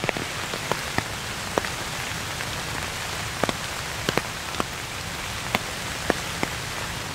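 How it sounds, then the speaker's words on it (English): Steady rain falls on an outdoor hunting stand during a deer bow hunt on a small island, making a constant broadband hiss. Scattered louder drops tap against nearby surfaces throughout. "I've been rained on long enough."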